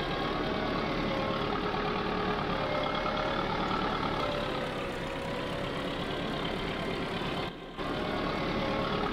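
Sonalika 60Di tractor engine in Farming Simulator 22 drones at a steady, loud idle-like rumble throughout, pulling in low gear, with a brief dropout near the end.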